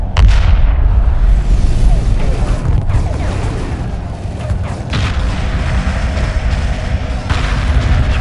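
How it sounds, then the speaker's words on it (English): Heavy weapons fire and explosions in Homeworld 2 Remastered space combat, a loud continuous wash of booms and rumbling blasts with a few sharper hits rising out of it. "Drawing heavy fire."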